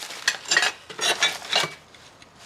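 Plates clink and rattle against each other in a garage in a few quick, bright clusters, close by, then the sound fades to quiet handling.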